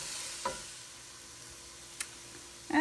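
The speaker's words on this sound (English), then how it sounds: "All right, cooking my garlic." Garlic cooking in a pan gives off a quiet, steady sizzle, with a few soft clicks of stirring near the start and end.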